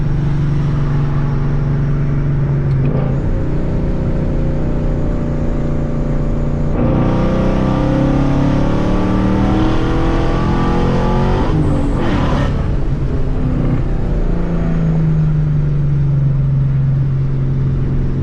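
A supercharged Paxton Mustang GT pulls hard, its engine note rising loudly and steadily. The revs drop at a short shift, then climb again, and the supercharger whine carries through the whole run.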